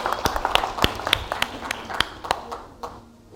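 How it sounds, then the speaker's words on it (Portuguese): A church congregation applauds Fábio with a scattered patter of hand claps, individual sharp claps standing out over a softer bed, which thins toward the end; no one talks over it. "Uma salva de palmas para o Fábio."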